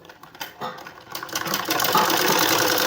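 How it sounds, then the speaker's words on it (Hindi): A sewing machine runs steadily while stitching a straight seam on a sleeve of a short top, starting with a few uneven stitches and then settling into a continuous, close, rattling whir. "इसमें भी हमने 1 इंच हमने बिल्कुल सीधी सिलाई लगानी है"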